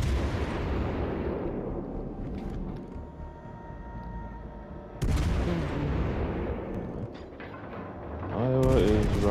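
Heavy naval gunfire booms out in World of Warships: Legends, loud rolling blasts with long decaying rumbles, alongside mechanical clicking and ratcheting of turrets and a sudden second volley later on, game effects only and no talking.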